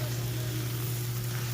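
Steak, pork chops and Brussels sprouts sizzle steadily on a Blackstone griddle while being stirred, a constant close frying hiss over a low hum, with no talking.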